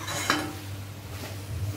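Palak paneer bhurji is stirred in a pan, giving a quick metallic scrape of a utensil against the pan and then quieter scraping, all faint and brief.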